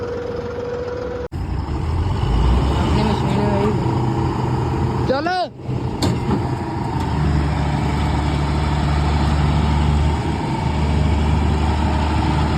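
A tractor engine chugs steadily at close range, a low rumbling drone throughout, with a brief squealing mechanical sound midway.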